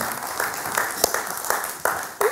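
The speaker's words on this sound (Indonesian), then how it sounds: "Boleh tepuk tangan untuk mereka." Brief applause from a church congregation during a Sunday service, a few scattered, distinct claps in an uneven rhythm over a hum of room noise.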